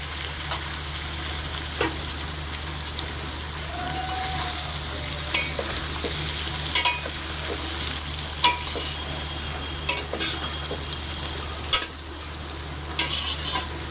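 Gujarati muthiya dumplings sizzle in a pan while being stirred, making a steady close frying hiss with scattered scraping and clinking of a spoon against the pan, with no voices.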